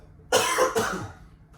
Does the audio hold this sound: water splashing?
no